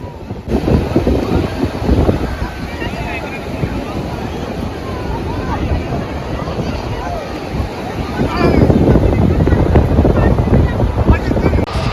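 Sea waves wash and roar on the seashore amid gusty wind buffeting the microphone, with voices murmuring in the background and a louder surge of surf toward the end.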